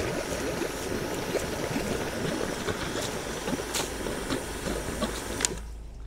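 A high-pressure water jetter works through a blocked gutter downpipe with a steady, rushing hiss of spraying water and faint irregular ticks and knocks, close and continuous before cutting off at the end.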